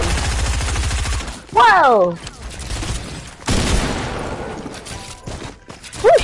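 Gunfire aimed at a player in a video game, arriving in loud bursts, with a startled voice exclaiming over the shots and other game noises.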